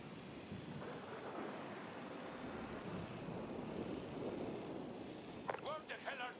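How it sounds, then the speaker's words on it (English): A surveillance drone in Ghost Recon Wildlands hums steadily overhead as a continuous broad engine-like drone through the whole stretch, with a few brief higher chirps near the end. "Drone."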